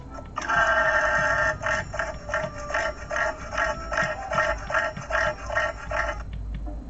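A cassowary's harsh, rattling call pulses rapidly for several seconds, loud and near, broken into buzzy stuttering bursts that end abruptly.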